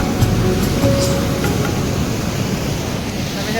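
Rainwater rushes and churns loudly and continuously after a downpour in a village near its pond, a broad steady roar like a flooded stream pouring past nearby.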